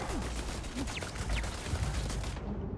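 Automated turrets in Starfield spray rapid gunfire, a dense crackling stream of shots with laser-like whistling streaks mixed in, steady and moderately close, cutting off abruptly near the end.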